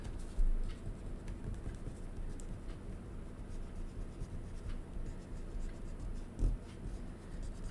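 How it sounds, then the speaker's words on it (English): Eraser rubbing out a pencil-drawn oval on paper, a soft continuous scratchy scrubbing with light back-and-forth strokes and a couple of small bumps. "So I'm just going to erase that oval."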